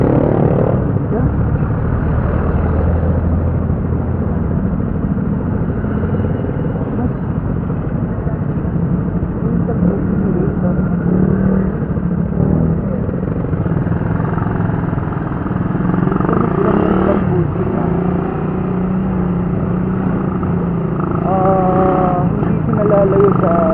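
A Rusi 150x motorcycle with a local-brand exhaust runs steadily at close range, its engine giving a continuous, even rumble for the whole stretch with no clear revving, and voices can be made out faintly beneath it.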